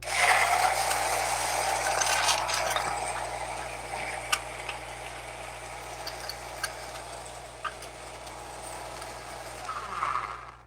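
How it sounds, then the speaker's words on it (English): A kitchen blender whirs steadily for about ten seconds, churning a tiki cocktail with crushed ice; a continuous grinding motor drone with light rattling ice, close and fairly loud, easing off near the end. "this goes on the blender"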